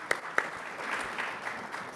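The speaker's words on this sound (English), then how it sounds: "let's have a little round of applause" A small round of applause at a startup conference, quiet and thin, with a couple of sharp claps at the start and then a steady patter of scattered hands that carries on for the rest of the clip.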